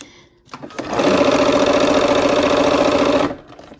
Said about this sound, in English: let's go ahead and sew these units together